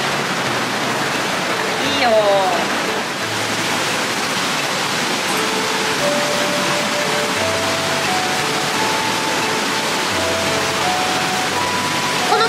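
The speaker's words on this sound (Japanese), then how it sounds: "川のせせらぎを聞きながら" Rushing water from a river stream beside a Japanese hot spring pours in a steady, loud wash of noise, with a short voice and faint sounds layered over it.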